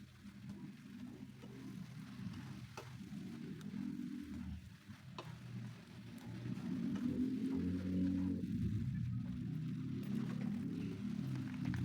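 Steady sizzling and crackling from mie goreng with scallions and bean sprouts stir-frying in a pan, with scraping stirs and a low hum, continuous and fairly quiet, without speech.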